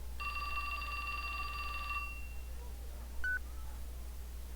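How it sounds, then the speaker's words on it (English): Phone ringing in the video game 428: Shibuya Scramble: a steady electronic ring tone lasting about two seconds, then a short, sharp beep, clear against a low hum with no talking. "His phone rang."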